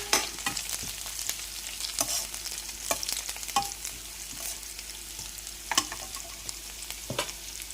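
Chicken frying in a pan for a chicken curry, a steady bright sizzle with intermittent scraping stirs at a close, even level and no talking.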